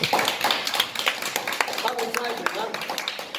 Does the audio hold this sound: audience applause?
yes